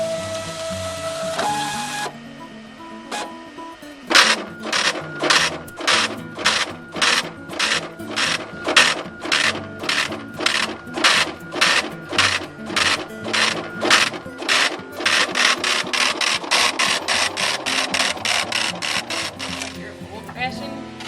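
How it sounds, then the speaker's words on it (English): A braille embosser hammers out rapid, evenly spaced bursts of loud mechanical clattering, line after line, ending in a denser rattling run. "This is my embosser right here."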